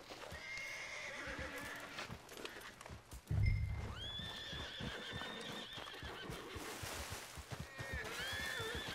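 In the Red Dead Redemption 2 video game, a horse whinnies and snorts, with hooves clip-clopping nearby. A loud thump breaks in partway through, and a second whinny comes later.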